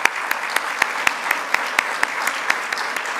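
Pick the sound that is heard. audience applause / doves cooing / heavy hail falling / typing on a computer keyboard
audience applause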